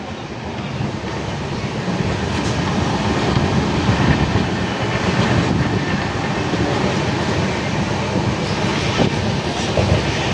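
Continuous rumble and rattle of a moving train, heard from inside, with faint rhythmic clicks of wheels over the rails throughout.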